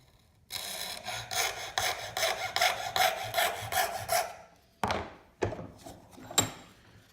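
A junior hacksaw cuts through a workpiece held in a vise, with a run of quick, even rasping strokes followed by a few slower, separate strokes, close and clear.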